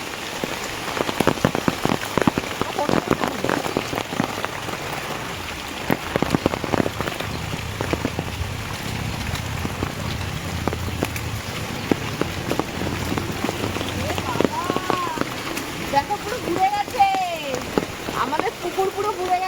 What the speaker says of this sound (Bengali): জোরে আসছে বৃষ্টি